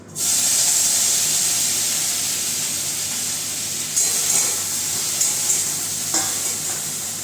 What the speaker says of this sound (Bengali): ভেন্ডি তো ভেন্ডি ভেজে ভেজে দিই